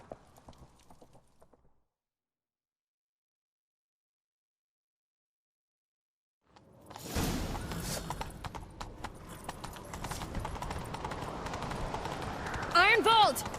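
Hooves of a horse galloping in The Witcher III, a rapid, driving clip-clop that starts after a stretch of silence and keeps up near and loud, with a brief neigh near the end and a voice heard at the start.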